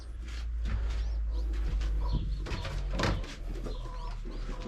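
Lovebirds in a coop chatter and chirp in a busy overlapping flurry of short calls, close and continuous, over a low steady background hum.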